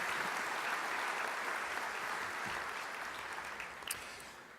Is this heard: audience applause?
yes